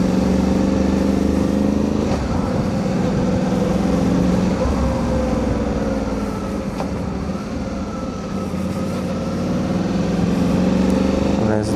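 Suzuki V-Strom 800DE motorcycle fitted with a DNA air filter, its exhaust giving a steady, fairly loud rumble that rises and falls slightly as it runs, with no talking.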